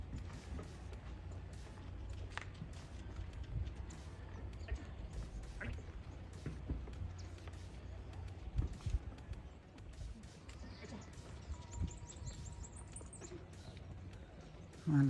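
Several donkeys walk along a street in a gated community, their hooves clip-clopping in a steady, moderately faint patter against outdoor background noise, with occasional louder knocks.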